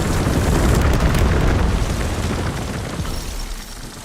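A remote-controlled RC-XD car blowing up in a shooter video game, heard as a loud, dense, rumbling blast that fills the clip and slowly fades over several seconds, with no voices.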